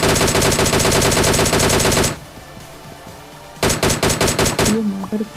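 Rapid automatic gunfire rattles loudly in a battle royale video game, a sustained burst followed by a short lull and then another volley of shots.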